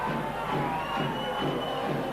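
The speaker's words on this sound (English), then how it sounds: "a warm round of applause from the South Stand" Rugby league match crowd in the stand at Leeds, a broad murmur of applause and crowd noise rolling on at moderate distance, soft and continuous with faint swells.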